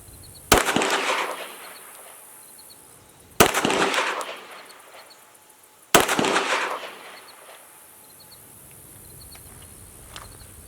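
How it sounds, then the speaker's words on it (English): Three loud, sharp gunshots crack out roughly every two and a half to three seconds toward a zip line target at a shooting range, each followed by a rolling outdoor echo, with faint bird or insect sounds between. "I'm going to shoot up high on the target so you can see them"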